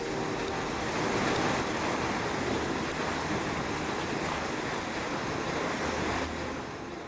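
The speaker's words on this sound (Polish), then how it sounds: "widzimy, jak wielkie ilości wody i z jaką siłą drenują wnętrze lodowca" Large volumes of glacial meltwater rush down a shaft into the interior of an Arctic glacier on Spitsbergen, making a continuous, dense roar that stays steady and loud throughout.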